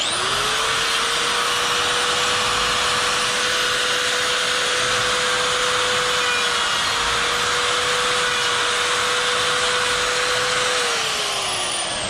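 A chainsaw cuts nostrils into a wood carving, running at a steady loud high-pitched whine for about ten seconds before the engine drops off near the end, close and continuous with no talk.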